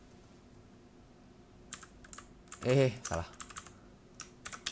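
Bursts of clicky typing on a computer keyboard while entering commands, irregular keystrokes and a louder clatter midway, with someone speaking briefly over it.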